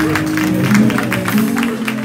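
A church congregation claps and shouts in a loud, steady burst of rhythmic handclaps over sustained tonal music or voices, filling the room for the whole stretch.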